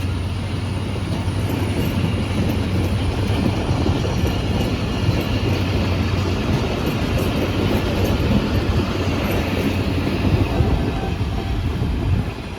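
A train passes steadily near Karachi, Pakistan, with a continuous loud rumble and rail clatter that fills the whole stretch and never lets up.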